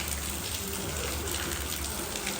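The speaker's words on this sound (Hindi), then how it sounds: "बारिश इतनी ज़्यादा तेज़ हो रही है" Heavy, continuous rain falling on a wet road, a dense steady wash of hiss and splatter with no pauses, fairly loud and close, with no speech over it.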